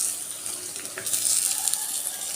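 Ridge gourd hits a pan of frying onion and green chilli, giving a steady bright sizzle with faint stirring scrapes throughout, loud and close.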